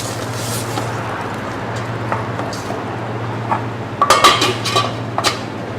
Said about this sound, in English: you're going to want to go ahead and kind of give your mince a little bit of stir